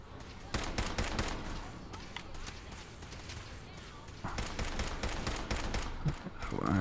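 Video game gunfire in Fallout 4 with modded gameplay: bursts of rapid shots crack out in clusters across the stretch, fairly loud, with a busier volley near the end and a low rumble underneath.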